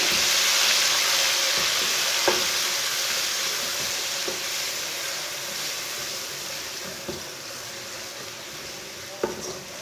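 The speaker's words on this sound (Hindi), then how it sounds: "टमाटर डाल के 2 मिनट तक भून लेंगे।" Finely chopped tomato fries in a pan for aloo masoor dal, giving a strong, continuous sizzle close by with a few soft spoon taps scattered through.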